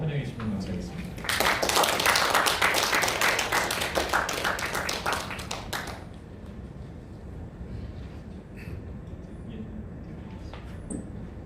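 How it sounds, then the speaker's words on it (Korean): Audience applause welcoming a speaker at a National Assembly seminar: dense clapping swells quickly, holds loud for about five seconds, then cuts off, leaving quiet room noise with scattered faint sounds. "큰 박수로 환영해 주시면 감사하겠습니다."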